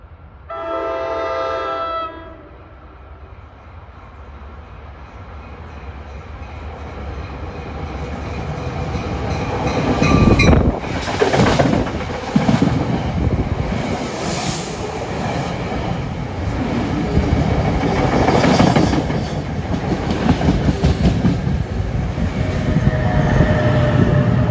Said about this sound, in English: We got a Trenton bound train arriving at Hamilton.